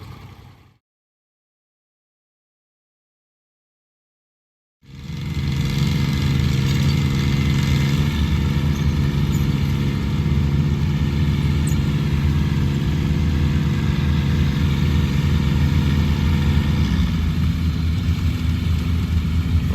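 After a few seconds of silence, a tractor engine starts up at a plow day and runs steadily, a low, constant mechanical drone.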